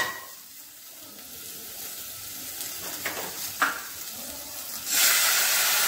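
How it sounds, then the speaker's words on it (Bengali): Spices in a pan (cumin powder, chilli paste, green chillies, dried chilli powder) crackle and sizzle steadily, then a burst of louder hissing swells near the end as water is poured in and meets the hot pan. "এবার আমি জল দিয়ে দেবো।"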